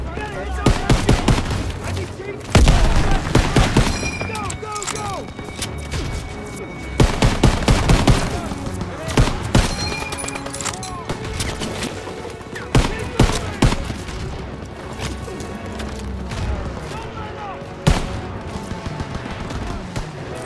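Machine guns firing from a barn in the video game Call of Duty WW2, with repeated loud bursts of automatic fire and heavy impacts in a busy battle mix, shouting voices heard under the gunfire.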